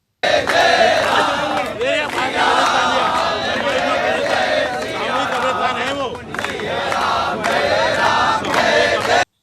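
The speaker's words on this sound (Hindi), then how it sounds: "जय श्री राम के नारे लगाए जा रहे हैं, भजन गाया जा रहा है" Loud crowd chanting of Jai Shri Ram religious slogans amid devotional singing, massed voices rising and falling in repeated cries outdoors near a funeral procession with police present, sustained for the whole stretch.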